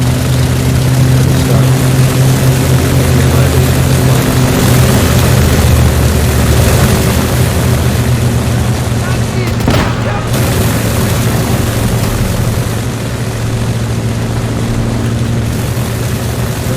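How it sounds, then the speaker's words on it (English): A plane flies over a custom game map, its loud, steady propeller drone filling the whole stretch with a constant low hum and a single brief dip partway through. "Plane gets near this point."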